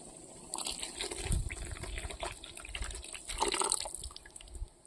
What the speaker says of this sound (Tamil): அரைச்சி வச்ச புளி தண்ணியை ஊற்றிக்கலாம்